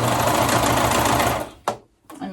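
A sewing machine runs close and loud in a fast, continuous whir while stitching a skirt side seam, then stops abruptly, followed by a couple of short handling sounds.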